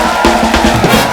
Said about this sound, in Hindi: एक बार हेजल और युवराज के लिए जोरदार तालियां।